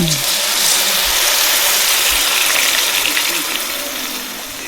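A loud rushing gush of water poured into a hot pan of sautéed ginger, hissing and bubbling steadily before slowly easing off.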